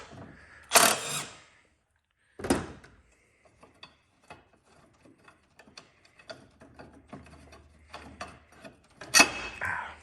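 A ratchet working bolts loose on a Kia Stinger air box, a few sharp bursts of metallic clicking separated by quieter scattered ticks and taps of handling parts.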